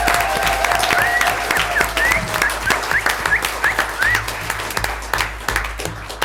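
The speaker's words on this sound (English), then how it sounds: "So let's all give John an amazing round of applause." Sustained applause from an audience at an art exhibition Q&A evening, dense clapping at close range that swells and holds steady, with a faint whistle-like tone and scattered cheers threaded through.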